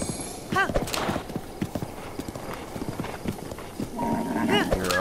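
Rhythmic clip-clop of horse hooves on hard ground in the video game Zelda: Breath of the Wild, steady and fairly close, with a snort or whinny and someone talking over it.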